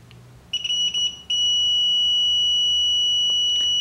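Shrill multimeter continuity beeper sounding during a refrigerator defrost timer check: a few quick chirps, then one unbroken tone that holds to the end, close and clear with no talking.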